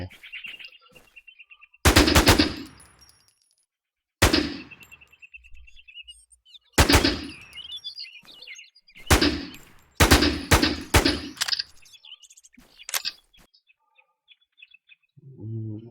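Automatic gunfire from a firearm in the online survival shooter WarZ, loud rattling bursts separated by silent gaps, several short and long volleys in a row, with no talking.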